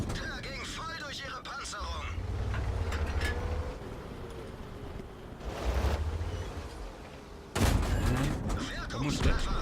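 Tank cannon fire in a tank video game with a Turan III prototype, heard as several booming shots, the loudest near the end, under a player's narration and a steady engine rumble.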